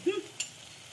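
Dry fruits (walnuts, almonds, cashews and two kinds of raisins) tipped into hot ghee while making suji halwa, giving a short stirring scrape with a light sizzle that quickly fades.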